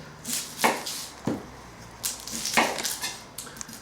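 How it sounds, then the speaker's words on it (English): A knife trims the ends off an onion on a board, giving several sharp, close cutting knocks spaced irregularly against a quiet background. "Just take the ends off, then we cut it through the centre."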